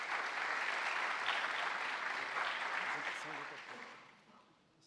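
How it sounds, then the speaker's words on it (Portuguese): An audience at a presentation on economic conditions and court records applauds the speaker, a full, even round of clapping that holds steady, then tapers off and fades near the end. "Por favor, dê uma salva de palmas para o apresentador."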